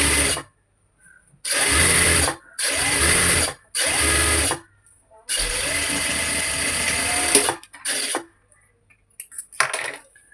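A sewing machine runs a double stitch on cigarette pants in short bursts: three quick runs, a longer steady stretch, then a few brief stutters, loud and close with quiet gaps between.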